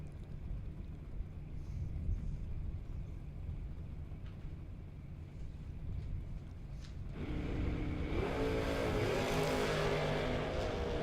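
A 2001 Chevrolet Camaro drag race car accelerates down the strip, a broad, loud engine roar that swells in the last few seconds over steady wind and crowd ambience.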